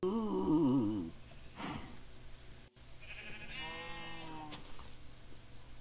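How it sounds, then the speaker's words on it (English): Sheep in the Minecraft video game (version 1.12) give a loud, wavering bleat that dominates the opening second, followed by softer, scattered game sounds and a second, quieter bleat-like call later on. "As you can see, I'm breeding sheep."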